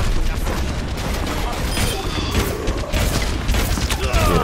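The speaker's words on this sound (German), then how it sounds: "Geschütz ist schon am Ballern." Overwatch match in progress, with a turret firing rapid automatic bursts amid explosive booms and mechanical clatter, loud and dense, with a player's voice briefly audible in the mix.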